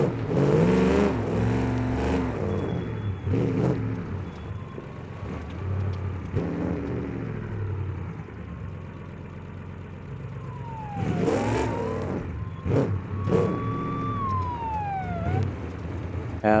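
Off-road 6x6 truck engine in the BeamNG driving game, revving and labouring up a hill with rising and falling whines and gear-shift sweeps, loud throughout.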